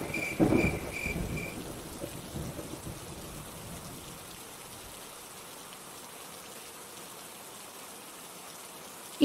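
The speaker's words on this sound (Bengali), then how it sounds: "আজও দেখছি খুব ঝড় উঠেছে।" Steady rain pours down with a heavy rumble of thunder at the start that fades into a constant hiss of rainfall.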